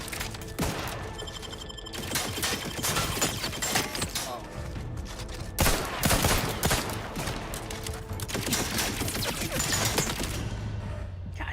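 Turret gunfire in The Outer Worlds 2 chatters in dense, sustained bursts. It is loud and close, with sharp impacts and clanking mixed in over a busy combat backdrop.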